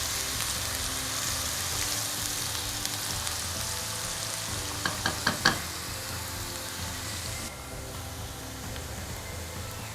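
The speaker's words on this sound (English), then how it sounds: "We're sauteing the onions for about 2 minutes before we add in our garlic" Finely chopped onions sauté in a pan, giving a steady, soft crackling sizzle throughout, with a quick run of light utensil knocks near the middle and no talk.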